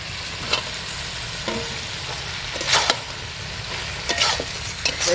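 Chicken curry with pumpkin stalks is stirred in a frying pan, ready for potatoes. A low sizzle runs throughout, broken by several close, scraping stirs of the spoon against the pan.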